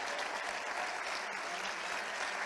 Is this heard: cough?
no